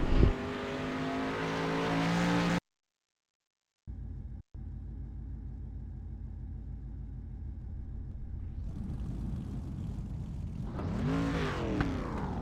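Race cars roaring across the finish line at the end of a heat race in the World of Thunder series, a steady loud engine drone after a brief cut, rising as the cars pass close.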